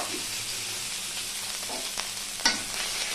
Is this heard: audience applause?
no